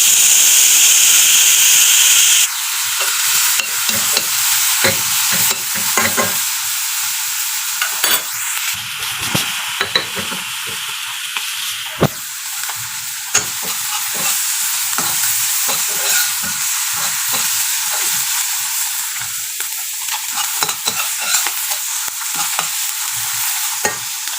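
Halloumi cheese frying in a pan for a quinoa salad: a loud, continuous sizzle and hiss with bursts of crackle and occasional stirring scrapes, no talk.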